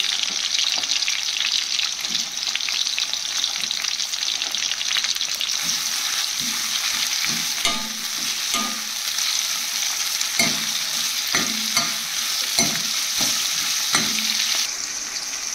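Onion and masala fry in oil in a pan with a loud, steady sizzle that runs throughout, while a spoon scrapes and knocks against the pan in irregular stirring strokes, especially in the second half, with no talk.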